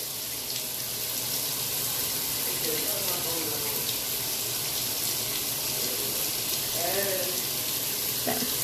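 Water runs steadily from a newly installed shower head, giving a continuous broadband hiss and spray throughout, with faint voices in the background.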